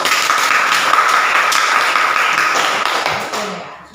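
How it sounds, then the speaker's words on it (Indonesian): A classroom of students claps together in applause, a dense steady patter of many hands that holds loud for several seconds before tapering off at the end. "Oke, tepuk tangan."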